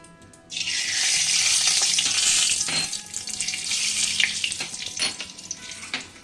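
Bay leaf, radhuni and fenugreek hit hot oil for a Bengali sukto and burst into a loud, close sizzle. It crackles strongly, then gradually settles into uneven spitting and popping.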